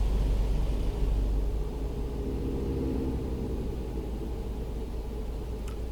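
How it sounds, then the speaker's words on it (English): A car passes a heavy truck on a downhill road in American Truck Simulator, giving a steady, loud, airplane-like rumbling roar that holds throughout with no talking. "Why did that car sound like an airplane?"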